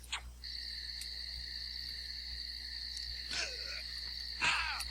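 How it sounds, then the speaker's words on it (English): Continuous high, steady insect trilling like crickets at night in a video game, with a few faint chirps and calls mixed in, no talking. "You can hear the crickets have come out, and it is nighttime."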